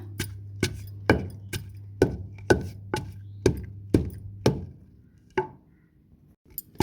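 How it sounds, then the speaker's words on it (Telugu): Brinjal and chilli chutney being pounded in a stone mortar: about a dozen sharp, evenly spaced thuds with a hard stony click, close and fairly loud over a low steady hum, slowing and thinning out near the end. "అందుకని నేను రోట్లో దంచుకుంటున్నాను"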